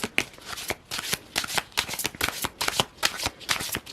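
Tarot cards being shuffled by hand, producing a steady run of crisp riffling flicks and slaps close up, with no talking over them.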